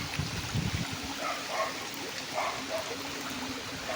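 Floodwater rushes steadily over a road in heavy daylong rain, a continuous close wash of flowing water with faint splashes and a dog barking briefly in the background.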